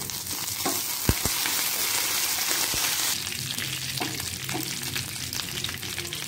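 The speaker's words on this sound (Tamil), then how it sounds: "இப்போ கடுகு நல்லா பொரியட்டும்." Mustard seeds and curry leaves spluttering in hot oil, a close, busy frying sizzle broken by a few sharp pops and crackles.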